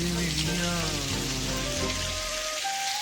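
Curry leaves, green chilies, cumin and pepper sizzling in hot oil in a pan, a steady dense crackle and hiss throughout, close and fairly loud.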